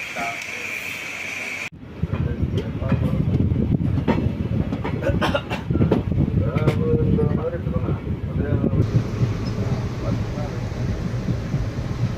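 The Kanniyakumari-Puducherry Express runs along the rails near Pudukkottai station, its wagons rumbling loudly with rhythmic clickety-clack and wind rushing past, heard up close from aboard the moving train.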